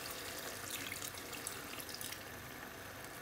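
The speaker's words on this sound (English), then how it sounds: "this was about just under a cup of water" Water pours steadily into a pot of chicken methi curry, a soft continuous splashing and trickling that holds even and close throughout, with no voices.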